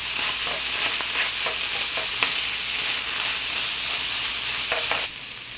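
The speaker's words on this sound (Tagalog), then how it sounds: "At haluin natin" Tomato paste is stirred in a hot pan while it sizzles, a steady loud hiss broken by repeated scraping strokes of a spoon, close up, with no voices.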